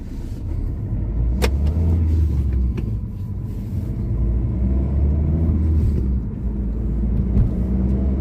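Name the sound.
Hyundai Verna car driving on test drive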